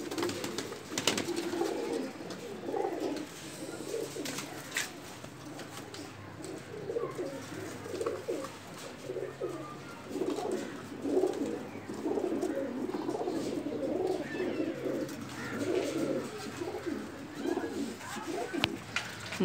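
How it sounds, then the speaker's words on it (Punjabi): Pigeons coo repeatedly on a rooftop loft where a male and two young birds are fed grain, the low rolling calls steady and close throughout against a faint outdoor background. "ਇਹ ਜੋੜਿਆਂ 'ਤੇ ਲਾਏ ਨੇ ਕਬੂਤਰ"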